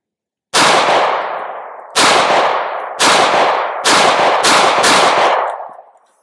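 Shots from an MX19 Elite pistol with a 3 lb trigger and aluminum frame, five loud, sharp cracks with ringing tails, the first three spaced about a second apart and the last two quicker, each fired outdoors without talk.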